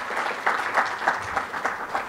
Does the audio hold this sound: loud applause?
yes